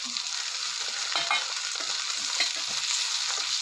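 Tomato tipped into softened onion in a hot pan sizzles and spatters steadily, with faint stirring clinks, no voices.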